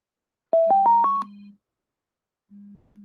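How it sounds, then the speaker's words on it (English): A telephone dials a call to a phone during a live interview broadcast: a quick run of four rising keypad tones over a steady line tone, a pause, then another tone burst as the call connects. "Somebody call my phone."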